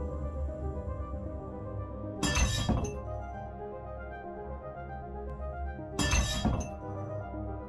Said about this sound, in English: a glass inexplicably slid off a countertop and shattered on the floor